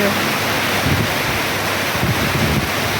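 Heavy nighttime rain over a flooding car park roars as a loud, steady broadband wash, close and continuous for a few seconds with no pauses.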